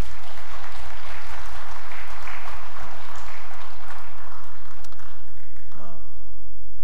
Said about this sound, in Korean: 우리 축하의 박수 한번 부탁드립니다.